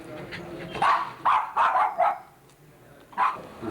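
A pet dog barks at home in a short burst of four or five sharp, close barks, followed after a pause by one more bark.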